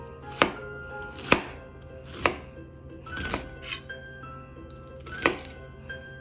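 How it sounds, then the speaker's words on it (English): A chef knife dices an onion on a cutting board: several sharp, distinct chops land at uneven intervals, close and fairly loud, with quiet gaps between strikes and no talking. "I'm gonna slice this way, and then because the onion has a radial, I'm gonna cut that way"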